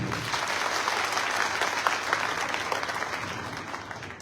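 A crowd at a Bhim Army Azad Samaj Party workers' meeting in Datia applauds loudly, many hands clapping in a dense, continuous burst that stays steady for several seconds with no speech.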